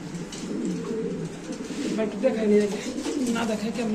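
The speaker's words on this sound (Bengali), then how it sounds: "এক পিস লাহরি কবুতর একদম টপ লাডের লাহোরি কবুতর দেখতে পাচ্ছেন" A Lahori pigeon with feathered feet coos in low, rolling bursts at close range, with faint voices murmuring underneath.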